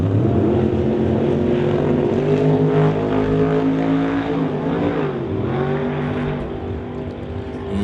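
NHRA Summit ET Series drag race cars roar loudly and continuously at close range, engines droning with shifting pitch as the run unfolds.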